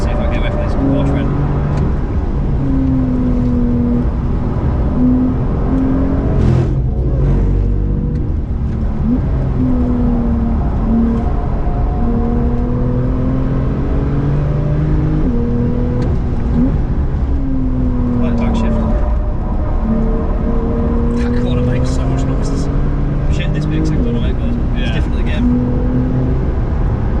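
A crash-damaged Porsche 911 Carrera driving on the Nürburgring, its engine loud and steady from inside the car, pitch rising and dropping through repeated gear changes, with people talking over it.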